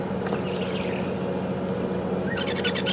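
A grey go-away bird calls at a waterhole on a morning safari drive at Djuma Game Reserve, giving a few short, moderately loud calls early on and again near the end over a steady outdoor background.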